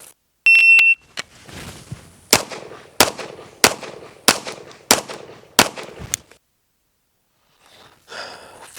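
Pistol shots fired during USPSA practice, a loud rapid string of about seven sharp cracks at a steady rhythm, opened by a shot-timer beep and followed by quiet.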